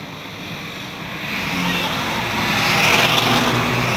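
Pack of race cars roaring off at the green flag on the Arlington Stadium speedway, a broad engine roar swelling louder and closer over several seconds, with a faint voice underneath.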